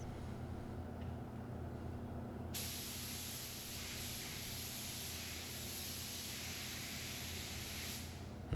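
A spray gun applies the final metallic paint coat in a steady, continuous hiss that runs unbroken, fairly quiet and close, with no voices.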